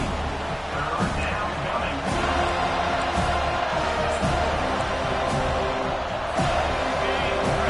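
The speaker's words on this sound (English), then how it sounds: "listen to this crowd noise. This stadium is vibrating." Stadium crowd roaring in NCAA 25 college football, a dense continuous wall of cheering and noise with periodic thumps and swells, loud and unbroken throughout.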